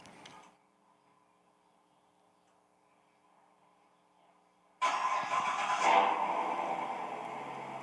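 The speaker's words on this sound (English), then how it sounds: "I had to at least start the Corvette because it was driving me crazy" A Corvette engine cranks and fires at about five seconds, then settles into a loud, steady idle after near silence with faint ticking.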